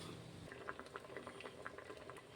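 Vegetables boiling in a pot on the stove, a quiet, steady bubbling with soft irregular pops and gurgles.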